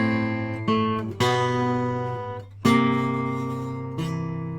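Guitar picks out a descending melodic line against an ascending bass line in a lesson setting, a series of clear plucked notes and chords each ringing and decaying, played alone and close without speech.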